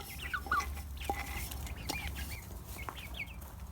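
Baby chicks and turkey poults cheeping in a farm brooder, with scattered high chirps and peeps at close range over a low background hum, and no talking.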